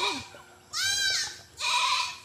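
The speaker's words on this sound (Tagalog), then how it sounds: "Yan pa mga kambing dito." Several goats bleat in loud, wavering calls, two long cries close by with a shorter one at the start, on a farm.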